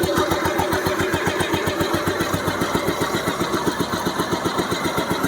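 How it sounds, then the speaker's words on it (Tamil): A 2001 Royal Enfield Bullet engine, kick-started by hand, idles steadily nearby with a light hum and a fast, even thumping rhythm that continues without a break. "கையில் ஸ்டார்ட் பண்ணி காட்டுறேன்."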